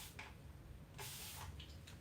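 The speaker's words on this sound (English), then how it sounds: "So inside this palette, my friends, I'm gonna spray it down real quick." A spray bottle mists water onto a watercolor palette in a few short, quiet hissing bursts separated by brief pauses.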